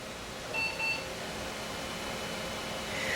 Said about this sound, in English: That double beep is a Compaq thing.